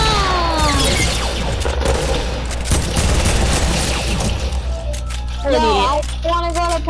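Rapid bursts of gunfire from a new gun in a video game ring out loud and close, with sharp repeated cracks. Voices talk over the shooting and a squeaky whistling tone closes out the clip.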